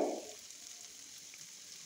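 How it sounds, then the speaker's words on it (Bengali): Steady, hissing sizzle of beef frying in a pan, with a brief louder stir or scrape at the start, no voices. "দেখুন আস্তে আস্তে ভাজা ভাজা হয়ে যাচ্ছে।"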